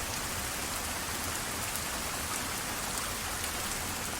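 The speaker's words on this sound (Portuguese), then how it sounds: "Tem horas que eu só ouço a chuva." Steady, dense rain falls and patters without pause, loud and close, with no voices or other sounds.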